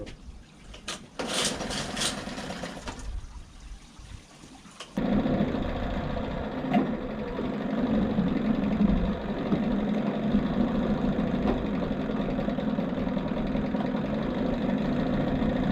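A modified outboard engine, converted from 9.9hp to 15hp, idles close by with a steady, rough rumble after some initial clattering and rattling, running continuously and fairly loud to the end.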